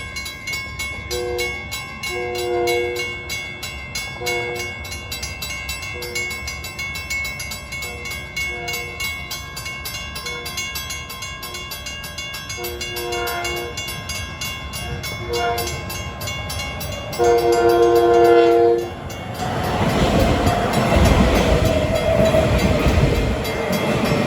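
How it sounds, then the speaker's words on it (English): An M9 electric multiple unit test train rumbles steadily past eastbound with tonal horn-like blasts repeating at intervals, growing louder and broader near the end as it passes close by. "We got an M9 test train going east at 8:53."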